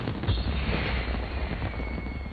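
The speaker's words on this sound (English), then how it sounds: "the iconic 14 logo and the fireworks" Fireworks at a Final Fantasy XIV seasonal event, a dense rumbling burst of booms and crackles with a faint rising whistle, loud and continuous for a couple of seconds.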